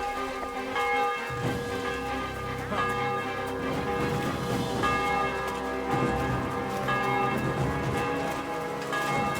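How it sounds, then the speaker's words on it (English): A church bell in the video game Kingdom Come: Deliverance II tolls repeatedly with a resonant, ringing tone, layered over a steady patter like rain and low rumbling in the background. "The bell's ringing"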